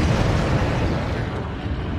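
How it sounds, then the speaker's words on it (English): A bomber explodes in a Pacific warplanes VR game, heard as a loud, dense roaring blast that rumbles steadily and fades slightly, with no talking. "they got bomber destroyed"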